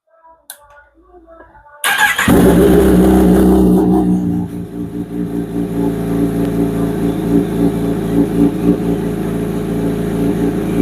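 A Kawasaki ZX10R sport motorcycle's engine cranks and fires after a near-silent moment. It catches with a loud burst, then settles into a strong, steady idle that lasts to the end.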